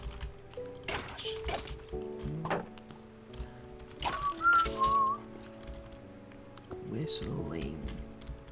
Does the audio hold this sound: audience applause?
no